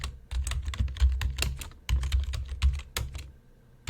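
Rapid clicking keystrokes on a computer keyboard, close and fairly loud, in irregular bursts with a short pause midway and another near the end, with no voices.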